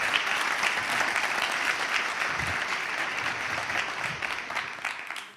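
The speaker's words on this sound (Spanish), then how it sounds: "Un aplauso para Bernal, por favor, que está aquí con todos vosotros" Sustained applause from a live audience at a comedy monologue show: dense, even clapping that fills the whole stretch and tapers off slightly at the end.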